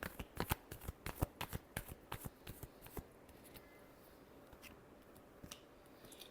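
Tarot cards being shuffled by hand, a rapid series of crisp close riffles and slaps for about three seconds, then a few sparser soft card sounds in a quiet room.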